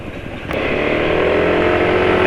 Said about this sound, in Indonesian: Tapi ini suara mesin sudah lebih halus ya.